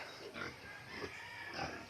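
Pigs on a family farm grunt faintly, with a few soft, low oinks at intervals under steady background noise.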